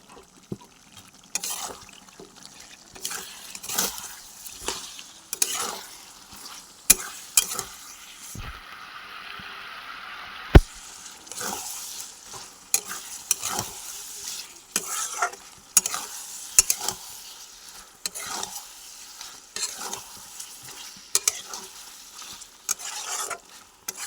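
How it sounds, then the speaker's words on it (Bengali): Ginger, garlic and onion paste with turmeric and cumin powder sizzles in a pan, with frequent loud scraping stirs in an irregular rhythm over a steady frying hiss, close up. "মশলা দিয়ে দিচ্ছি আদা রসুন পেঁয়াজ বাটা তার সঙ্গে আছে হলুদ দিয়ে দিলাম"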